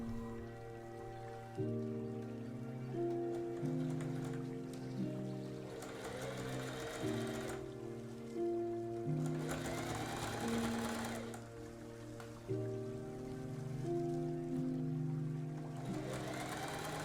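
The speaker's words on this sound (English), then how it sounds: "My sewing machine has such a hard time getting over the hems of things" A home sewing machine stitches over fabric hems in several short runs, its motor whirring steadily with stop-and-start pauses, fairly quiet with a faint rain-like patter behind it.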